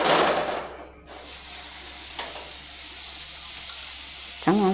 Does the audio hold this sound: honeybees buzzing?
no